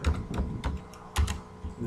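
Someone types on a computer keyboard: a quick run of distinct, close key clicks with short pauses between them.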